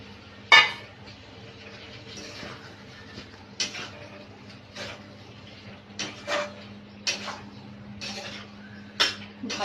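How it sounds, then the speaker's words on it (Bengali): A spoon stirs potatoes and soya chunks into fried spice paste in a pan, giving scattered clinks and scrapes of metal against the pan at irregular intervals over a quiet kitchen hum. "ভালো করে মশলার সাথে মিশিয়ে নেব"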